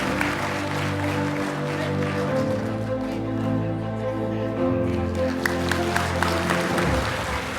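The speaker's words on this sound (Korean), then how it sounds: "따뜻한 박수 부탁드리겠습니다" A crowd applauds at a political party's legislative activity report gathering, moderate clapping over background voices and room murmur, swelling again near the end.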